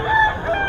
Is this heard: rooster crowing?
yes